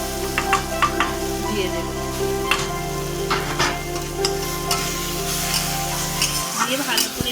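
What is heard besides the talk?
sautéing mashed potato singara filling in a pan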